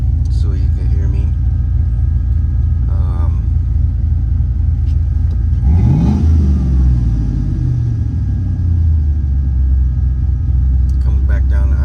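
A 2000 Chevrolet Silverado truck with an aftermarket camshaft idles with a loud, lopey rumble, revs up sharply mid-way and settles back down to idle, with the cabin AC fan blowing on max.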